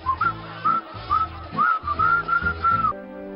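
Cheerful melodic whistling from a Navratna herbal hair oil TV advertisement, a bright tune of short rising and sliding phrases over a steady low musical backing, loud and close, ending with the accompaniment alone.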